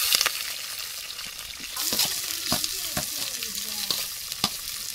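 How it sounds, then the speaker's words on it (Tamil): Onions fry in oil in a clay pot with cardamom, clove and bay leaf for prawn biryani, a steady close sizzle broken by several sharp scraping stirs. "அடுத்து வெங்காயம் சேர்த்துக்கலாம்."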